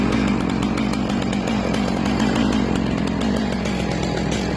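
Chainsaw trimming a lumber log, a loud, continuous high-revving engine drone with steady cutting, close up and unbroken throughout.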